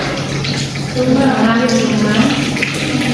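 Water is poured into a model drain, splashing and flowing steadily, with a voice talking faintly in Indonesian underneath the running flow.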